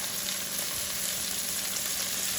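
Seasoned chicken pieces sizzle in a hot frying pan, a steady, close crackling hiss that fills the moment without any talk.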